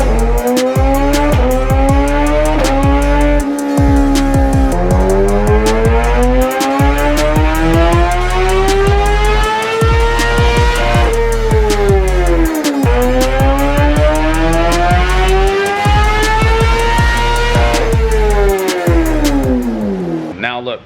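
A 2024 Kawasaki ZX-6R motorcycle screams on a dyno at high revs, loud and continuous, with repeated rising engine sweeps that climb and drop again across several runs.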